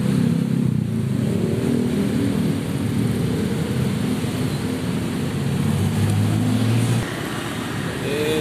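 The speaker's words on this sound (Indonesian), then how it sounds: "ini macet." Heavy afternoon traffic jam on a city street in Malang, Indonesia: a steady, loud mix of idling and revving motorcycle and car engines with continuous road rumble close by.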